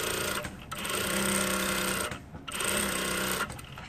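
A sewing machine stitches along the waistband seam of tailored shorts in two loud, close, continuous runs of rapid needle chatter, with a brief stop between them and no talk.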